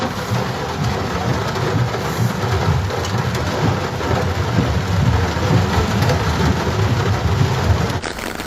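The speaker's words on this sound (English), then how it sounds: "Due to the heavy rain in Brunov," Heavy rain pours steadily during a violent thunderstorm in Brunov, Slovakia, with dense broadband hiss and low rumbling throughout, loud and continuous, ending in a sharp crack near the close.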